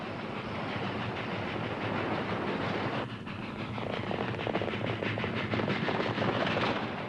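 A special train to Dodge City rumbles steadily with a rhythmic clickety-clack that grows busier and faster as it gathers speed, loud and close with no talking.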